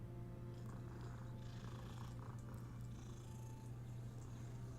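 A cat purrs in a steady, low, continuous rumble, close and fairly quiet, with no talking over it.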